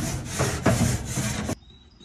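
Metal drip pan of a Pit Boss Lockhart pellet smoker scraping and sliding out of the unit, a close, loud rubbing scrape that stops abruptly.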